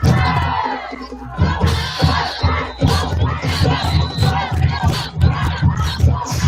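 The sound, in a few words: crowd and cheerleaders cheering at a high school football game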